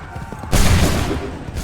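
A musket volley from a line of soldiers in Assassin's Creed III erupts as one loud, close blast, trailing off into a rumbling echo through the rest of the moment.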